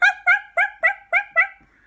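A voice imitates a dog with six evenly spaced, sharp yips or barks, close and loud, each clipped short, the last one trailing off into a faint whine.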